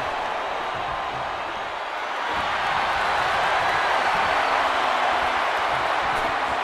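A wrestling arena crowd roars in a steady, dense wash of cheering and noise, loud and continuous throughout, with no clear single voice above it.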